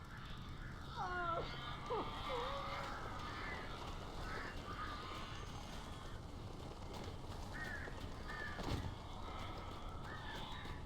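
Crows cawing in the video game Alan Wake, several harsh calls scattered through the opening seconds and again near the end, mid-distance over a steady hiss of ambient background noise.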